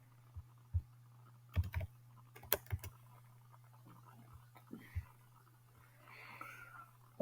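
Computer keyboard typing in quiet scattered bursts of a few keystrokes, close but soft, over a faint steady electrical hum, no talk.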